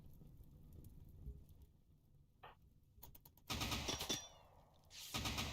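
Bursts of gunfire in the video game Rimworld, a short faint shot, then louder rapid rattling volleys after a near-silent stretch.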